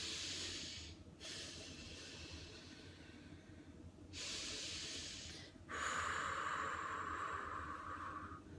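Slow, deliberate breathing exercise, in for two counts and out for four: breathy airy hisses of inhaling and exhaling repeat close to the microphone, with brief pauses between breaths and no speech.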